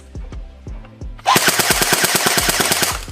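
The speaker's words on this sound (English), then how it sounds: "Let's do a few more test shots." A Snow Wolf M41A Pulse Rifle airsoft gun, black and grey version, fires test shots: a few separate single pops, then a sustained rapid full-auto burst of evenly spaced cracks, close and loud.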